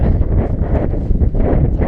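Strong wind on the hilltop of Moel Famau buffets the microphone with a loud, continuous low roar and rumble.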